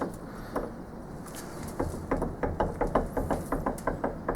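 A rough metal tailstock casting rocks back and forth on a flat surface, giving a run of quick, evenly spaced hard knocks that grows into a steady clattering rhythm, close and fairly loud, with no talking.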